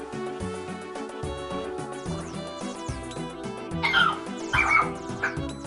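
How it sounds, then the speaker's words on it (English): A dog barks and whimpers in several short bursts, fairly close, over steady background music with no talk. "No barking."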